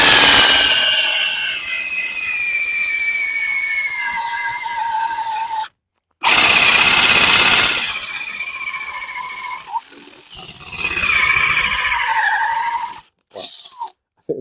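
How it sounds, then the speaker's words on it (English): A cordless drill whines and screeches as it bites into aluminium, in several bursts separated by short pauses, loud and close. "So I'll drill this now."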